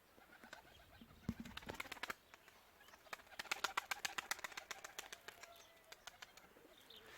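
Tumbler pigeons with smoke-grey plumage, one just returned after going missing that morning, make soft rustling and a run of sharp wing-claps and flutters at close range, with faint chirps in a quiet outdoor setting.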